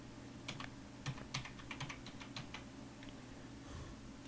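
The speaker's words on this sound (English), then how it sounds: "so we'll type out Florida here." Keys clatter on a computer keyboard as a word is typed out during graphic design work, a short irregular run of light, fairly quiet keystrokes over a faint steady background hum, with no speech.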